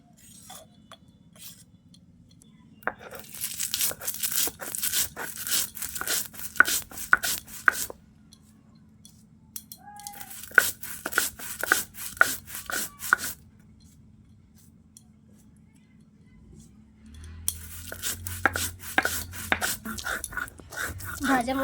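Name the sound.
grinding fried spices by hand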